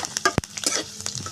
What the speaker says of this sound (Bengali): আদা ভেজে নিচ্ছি।